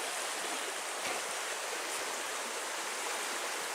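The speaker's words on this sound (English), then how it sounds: "one of the nicest streams around here" A good-sized stream along the Manistee River Trail rushes steadily, a close, unbroken hiss of flowing water with no voices.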